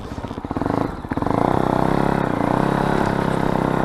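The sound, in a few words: Fantic Caballero Scrambler 500 motorcycle riding off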